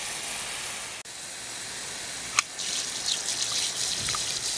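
Seaweed solution pours over a succulent in a pot with no drainage hole, a close, steady hiss of running water with a soft trickle.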